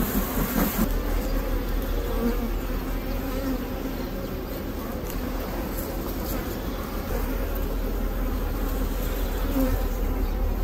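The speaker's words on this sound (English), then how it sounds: "Again, blowing the bees out of the way." Honey bees buzz in a dense, steady swarm as a beehive is opened and split using supersedure queen cells, a loud close drone lasting throughout with no pauses.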